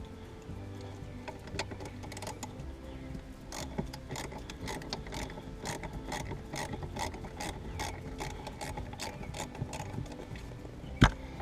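A ratchet wrench clicking in quick steady runs while loosening the battery terminal nut on a Jeep Grand Cherokee WK2, close up, with a sharp metallic clunk at the end.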